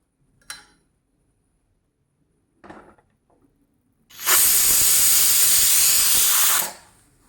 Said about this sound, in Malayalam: ഇനി ഇത് 4-5 വിസിൽ വരുന്നതുവരെ വേവിച്ചെടുക്കാം.